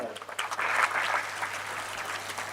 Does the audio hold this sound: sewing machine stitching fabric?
no